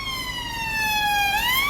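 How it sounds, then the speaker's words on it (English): An ambulance siren wails loudly on a street in Blackpool, its tone sliding down and then rising again as it passes close by. "Here it comes, look. Here's the Blackpool Siren."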